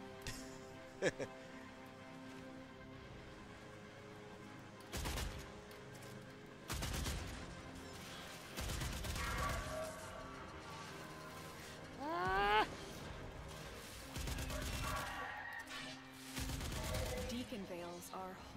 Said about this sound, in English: Use turret. If that don't work, use more turret.